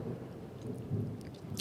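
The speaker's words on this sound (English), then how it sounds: "If you can hear the thunderstorm outside," A thunderstorm outside rumbles low and steady, with soft rain-like patter and a swelling thunder roll near the middle, heard faintly from indoors with no voices.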